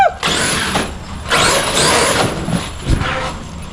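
A 100 mph radio-controlled car accelerates outdoors, its electric motor rising in sharp whining surges with bursts of tyre and gravel noise, loud and close, several quick pulls in a row.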